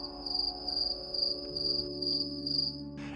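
Crickets chirping in a steady, high, pulsing trill in short repeating bursts, with a low hum and a faint tonal drone underneath and no voices.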